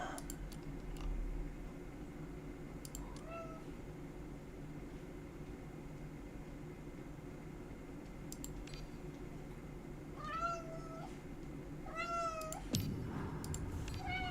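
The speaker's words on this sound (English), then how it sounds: "What are you meowing about?" A pet cat meows a few times, short rising cries scattered over a faint indoor background with soft clicks and a low steady hum, the calls fairly quiet and somewhat distant.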